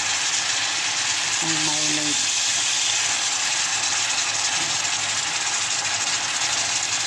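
Marinated beef sirloin pan-frying for beef and broccoli, a steady broad sizzle running the whole time at moderate level, with a brief faint tonal hum partway through.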